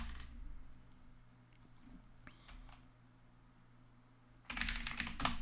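Computer keyboard keys being typed on an Ubuntu-based elementary OS machine, a quick, close burst of clicking keystrokes coming in near the end after a quiet stretch.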